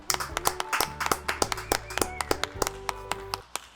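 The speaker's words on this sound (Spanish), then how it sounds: "Un aplauso." A small group claps at the close of a Spanish-language talk program, sharp distinct handclaps in a quick uneven patter, close and fairly quiet, with no voices over them.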